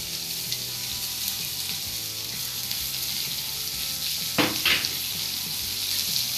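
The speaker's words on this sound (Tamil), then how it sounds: "வெங்காயம் நல்லா வதங்கின அப்புறமா மற்ற காய்கறிகளை சேர்க்கலாம்" Onions sauté in hot oil for traditional rava kichadi, a steady close sizzle throughout with a brief louder stirring scrape near the end and no talking.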